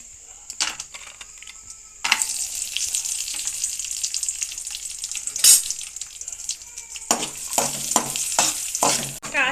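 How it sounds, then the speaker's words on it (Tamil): Cashews and raisins frying in ghee in a pan for kesari, a steady close sizzle broken by sharp scraping stirs of a spoon against the pan, with no talking. "கேசரி செய்கிறதுக்கு முதல்ல நெய்யில் வந்து முந்திரி திராட்சையை போட்டு நல்லா பொரித்து எடுத்துக்கோங்க"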